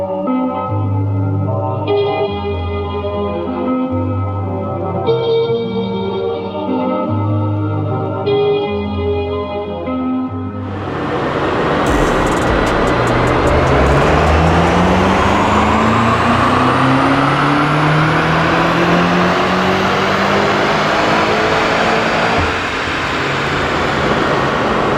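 A 2025 BMW M5 G90 with the S68 engine starts with a stuttering, rhythmic idle, then roars into a loud full-throttle dyno pull, its engine note climbing steadily in pitch and echoing in the enclosed shop.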